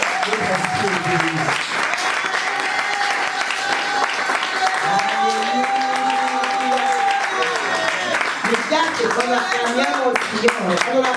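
A church congregation applauding and cheering in praise during a service, sustained clapping with voices calling out and singing over it, full and close, speech mixed throughout.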